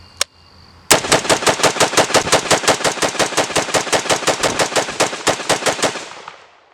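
A Gen 1 Romanian Draco AK47 pistol fired in one rapid, evenly spaced string of roughly thirty loud, close shots after a single sharp report, the reports ringing out and fading at the end, no talk.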